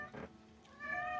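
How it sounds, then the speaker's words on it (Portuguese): A cat gives two short meows, a brief one first and a longer rising one after a pause, close and clear with no talking. "Os gatos falam."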